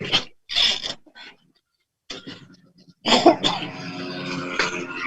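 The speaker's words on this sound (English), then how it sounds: "we can hear coughing as well as a vehicle in the background" Several close, harsh coughs in quick bursts, a short pause, then a rougher stretch of coughing and throat noise, heard over a remote meeting connection.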